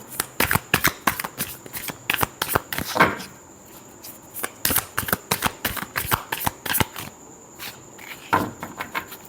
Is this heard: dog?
no